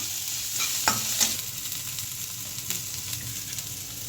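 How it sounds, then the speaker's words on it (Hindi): Onion frying in a pan with cumin and mustard seeds, a steady close sizzle with occasional stirring scrapes and light crackles, no talking. "प्याज को भी हम अच्छे से भून लेते हैं।"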